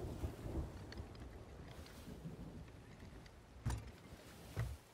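A sea storm in the video game Sea of Thieves roars as a continuous low rumble of wind and waves, with two heavier booming surges near the end and no voices.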